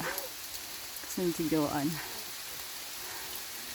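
Steady rain hisses across the whole clip at a campsite on Mt. Apo in the Philippines, soft and even, while a person speaks briefly over it.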